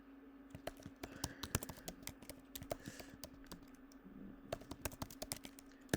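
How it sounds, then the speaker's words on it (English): Steady typing on a computer keyboard while writing NestJS code, with quick irregular key clicks running throughout at close range over a faint constant hum, and no talking. "If I can type properly,"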